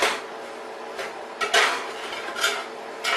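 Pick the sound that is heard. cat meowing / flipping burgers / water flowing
flipping burgers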